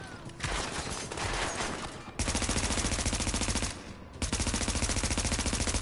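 Gunfire in the video game The Division crackles out in rapid automatic bursts, then a short pause, then more. The shots are loud and close.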